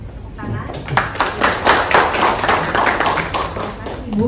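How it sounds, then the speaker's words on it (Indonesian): Scattered audience clapping at a pre-event press conference for an international conference on cross-cultural religious topics, a modest, uneven burst of claps with people talking over it. "Mari kita berikan tepuk tangan."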